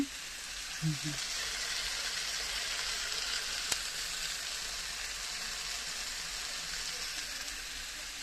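Fish sizzles in a pan as it releases water, giving a steady, close, bubbling hiss that carries through to the end, with a faint voice early on.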